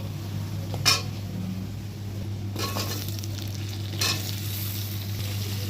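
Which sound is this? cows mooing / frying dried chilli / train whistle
frying dried chilli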